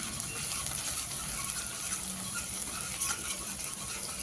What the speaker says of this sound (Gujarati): ડુંગળીને આપણે થોડી લાલ થાય ને એવી સાંતળવાની છે